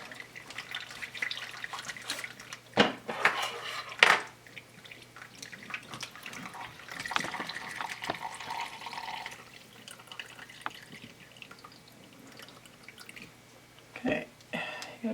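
Meat juices from a carnivore cake are poured off into a container, a faint trickling and dripping of liquid with a few soft clinks, close by and fairly quiet throughout.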